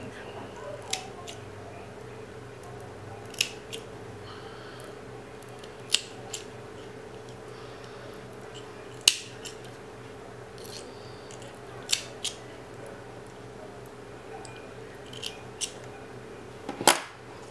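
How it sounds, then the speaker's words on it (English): Scissors snip excess cotton wick off a double-wick coil, with about a dozen sharp, quiet clicks spaced irregularly over a low steady background hum. "Then I'm going to cut off the excess from that double wick up top."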